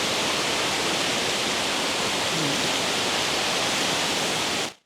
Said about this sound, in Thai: น้ำตกมันล้นลงมาที่บันไดแบบนี้แหละ